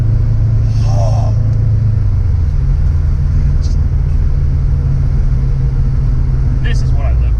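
Straight-piped Subaru Bugeye WRX exhaust droning with a deep, loud, steady rumble from inside the moving car, holding an even tone the whole time with a few faint clicks and brief sounds on top.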